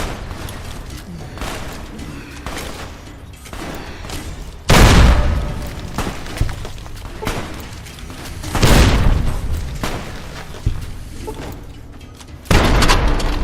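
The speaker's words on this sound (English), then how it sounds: "Man, those grenades" Grenade explosions in Fallout: New Vegas boom loudly several times, with heavy low blasts around a gunfight backdrop of rumbling game noise and scattered pops.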